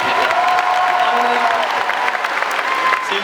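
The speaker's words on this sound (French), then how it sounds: "Ah, vous pouvez applaudir." Audience applause at a live drawing battle between manga artists, dense clapping mixed with a few cheers and voices in the crowd, steady and loud throughout.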